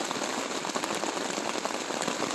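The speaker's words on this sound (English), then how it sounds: "you can hear the rain hitting my tent" Steady rain drums on a tent at morning, a dense, continuous patter of drops close overhead with no pauses or talk.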